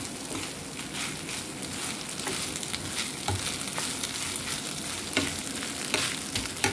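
Food being stir-fried in a pan, tossed like fried rice: a steady, close sizzle with scraping stirring strokes and small clicks running throughout, with no talking.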